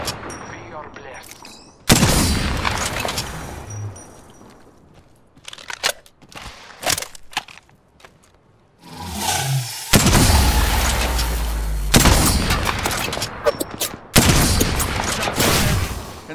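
Gunfire in the Apex Legends video game, loud bursts of rapid shots and booming impacts that come and go, with sudden heavy sections after quiet gaps and short sharp single cracks between them.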